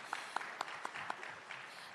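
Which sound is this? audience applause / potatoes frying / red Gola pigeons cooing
audience applause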